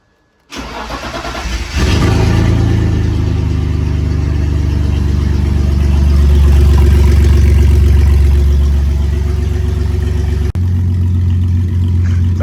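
A BMW E36 engine cranks and fires, then runs loud and close with a rough, droning tone that swells in a long rev before briefly dipping and settling back to a steady idle.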